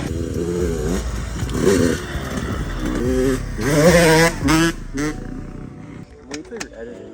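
A dirt bike engine runs close by in short revving bursts, its note rising and falling, with clatter and people talking over it.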